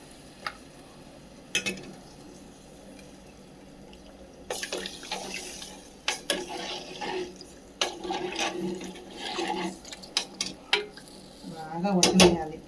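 Water goes into a pot of chicken curry amid kitchen clatter, with intermittent splashing and running water, metal utensils knocking against the pot, and quiet gaps between bursts.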